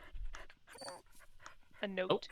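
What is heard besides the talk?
dog panting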